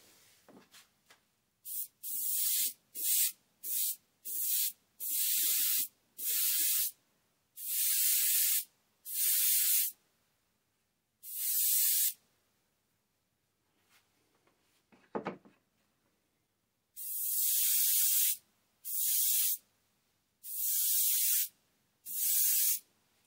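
Airbrush spraying watered-down paint onto a yellow perch carving: a series of loud, airy hissing bursts of varying length, stopping and starting with short pauses and a brief knock between.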